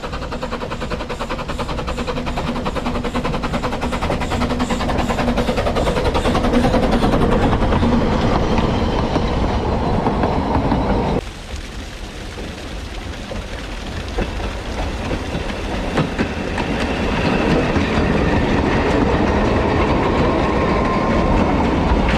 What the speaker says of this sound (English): We reckon it's now a down train.